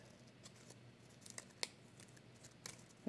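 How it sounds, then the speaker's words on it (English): Scissors snipping the last bit of a paper leaf cut-out for a card-making masking technique, a few soft quiet cuts spaced apart in a hushed room, with one sharper snip near the middle. "I'm just going to use my scissors to just"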